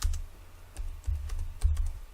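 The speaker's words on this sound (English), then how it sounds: "we're going to type in Curse Forge" Clustered keystrokes on a computer keyboard type a search, soft clacks in a few quick bursts with low thumps, close-up and with no speech.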